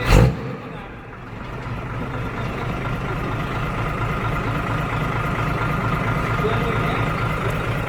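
Fuso 225-horsepower truck engine revving steadily and loudly after a brief opening burst, a sustained throaty roar with faint voices in the background.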